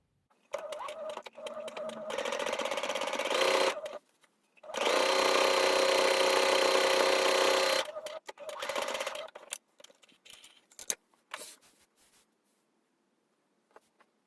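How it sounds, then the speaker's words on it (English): Domestic sewing machine doing free motion quilting on a small home item, running in two long steady bursts of a few seconds each with a brief pause between, then short stop-start stitching bursts tapering off to quiet. "So I'm going to finish quilting this"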